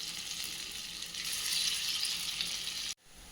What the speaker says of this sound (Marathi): मीडियम आचेवरती अलटून पलटून ना गोल्डन ब्राऊन कलर येईपर्यंत ह्या वड्या छानपैकी आपल्याला शालो फ्राय करून घ्यायच्या आहेत